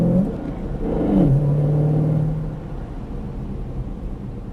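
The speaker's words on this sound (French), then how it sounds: "Et là, on peut accélérer." A Ford Mustang Shelby GT500 engine climbs in pitch as it accelerates, then holds a steady, throaty drone before easing into a lower rumble, with no talking.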